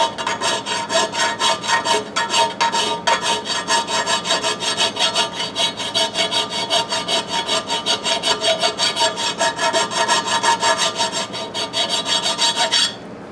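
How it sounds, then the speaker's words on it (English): Fine hand file rasping a metal part for a motorized scooter build, about forty quick, even back-and-forth strokes, close and steady, with a short pause early on and no talking. "now I just take a file, and it's not even that aggressive"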